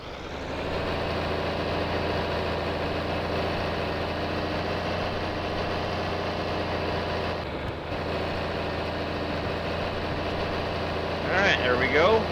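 A John Deere 4020 tractor engine runs steadily under heavy load while working a hay baler, a loud continuous drone holding throughout with a brief dip midway and a sharper mechanical rattle near the end.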